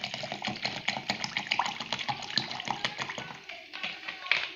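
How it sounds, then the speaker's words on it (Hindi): Water running from a tap into a jug in a home kitchen while cooking kadhi pakora, a steady faint splashing and gurgling stream that continues throughout. "और इस जग को पानी से भर लेंगे"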